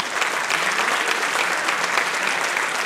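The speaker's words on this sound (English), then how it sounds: "every one of the startup members who made it today deserves a big round of applause" Sustained, dense applause from a large audience at a startup demo day, loud and steady throughout with no talking over it.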